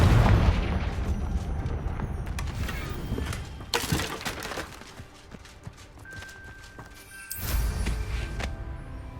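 Confringo blasting spell explosion in Hogwarts Legacy, a couple of loud booming bursts with rumbling tails and scattered impact noises amid ambient game sound.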